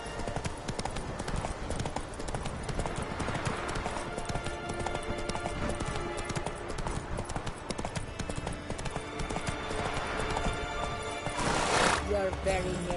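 Hooves of Roach, a horse in The Witcher 3, clip-clop steadily at a gallop through a dense game soundscape of music and ambience, with a voice speaking over it and a louder burst near the end.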